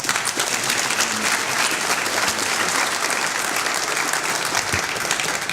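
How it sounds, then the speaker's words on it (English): An audience at a Personhood Day gathering applauds a pastor and his wife, sustained dense clapping throughout, loud and close, with no talk over it. "Give them a round of applause."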